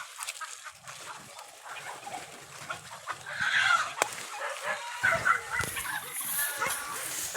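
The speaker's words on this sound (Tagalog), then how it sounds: "Pinahuli natin kay Mimo yung isang manok at lulutuin natin." Chickens clucking at a rural backyard, with a dog barking and a rooster crowing mixed in, steady farmyard calls building louder midway through a noisy outdoor scene.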